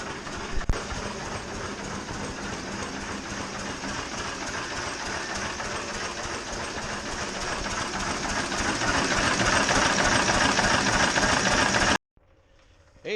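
A 1906 Reo Model B antique car engine idles steadily for a long warm-up, a dense continuous mechanical clatter that grows gradually louder before cutting off abruptly near the end, with no voices.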